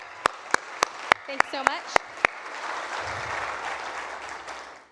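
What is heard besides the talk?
audience applause for event staff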